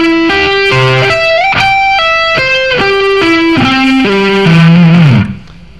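A distorted electric guitar plays a quick, continuous run of combined arpeggio shapes in a 1990 rock-chops lesson, loud and close, each note picked cleanly and ringing into the next before a brief fade.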